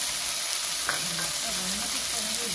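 Spices with turmeric, salt and sugar being fried down in a pan for lata fish kalia give a steady, even hiss of frying, close and continuous, with faint stirring underneath.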